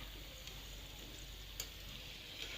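Crispy pitha fries in oil with a faint, steady sizzle, broken by a couple of light ticks and clinks from the pan.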